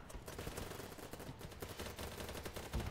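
Rapid gunfire in the video game BattleBit Remastered, a dense, continuous burst of overlapping shots at moderate level that runs through the whole stretch with no talk.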